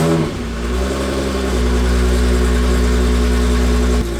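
Volkswagen Corrado with a VR6 engine running with no exhaust fitted, a loud raw idle with a deep steady drone and a brief blip of revs, close up.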